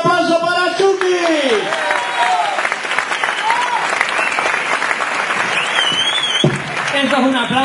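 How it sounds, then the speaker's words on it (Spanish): An audience at a comedy night in Antequera claps steadily and loudly for a performer, and voices shout and talk over the applause at the start and the end. "Señor, un aplauso para Chucky"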